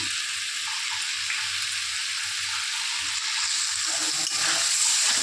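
Pointed gourd coated with a little flour frying in a pan, a dense, constant high sizzle that grows slightly louder toward the end, with faint stirring underneath.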